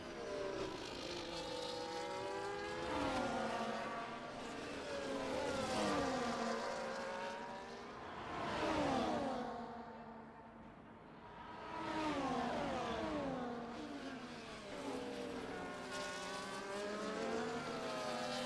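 Two Sauber race cars battling for position in F1 24, engines rising and falling in pitch as they accelerate and shift through gears, the sound swelling and fading as they pass.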